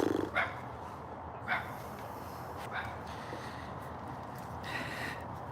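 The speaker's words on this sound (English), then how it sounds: "It's a dog." A dog barks several times in the distance around old hospital grounds at night, short faint woofs spaced apart over a steady low background hum.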